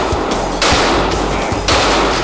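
Two loud, sharp gunshots from an FN Five-seveN 5.7x28mm pistol ring out about a second apart at close range, each followed by a short echoing tail.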